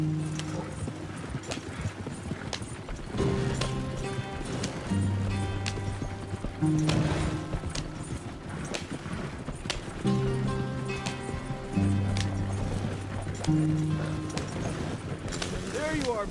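Horse hooves clip-clop at a gallop across a game landscape, a steady loud rhythm running nearly the whole time, with a musical score and a voice speaking over it.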